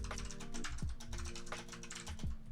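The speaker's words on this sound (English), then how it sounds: "It's just typing." Rapid, uneven keystrokes clatter on a computer keyboard close by, dense and continuous with short bursts and brief pauses, no voices over them.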